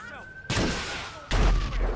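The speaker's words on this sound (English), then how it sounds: "nope, he's still shooting us" Gunfire in GTA 5 with the LSPDFR police mod during a shootout at a house, two heavy, close blasts about a second apart, each trailing off with a rumbling decay.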